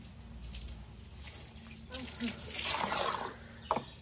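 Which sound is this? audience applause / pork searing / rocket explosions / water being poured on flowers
water being poured on flowers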